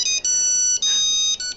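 A cell phone ringtone for an incoming call, a bright electronic melody playing loud and close in short repeated phrases with brief gaps, no talk over it.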